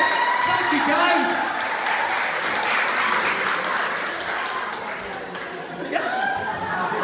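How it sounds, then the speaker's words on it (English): Loud crowd applause at a comic con event, with chuckles and laughter mixed in and voices talking over the clapping, continuing steadily throughout. "A big round of applause, ladies and gentlemen, for the Incredibles."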